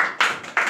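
Students in a 10th class Hindi seminar clap briefly after a correct answer, two short bursts of hand claps close by in a classroom.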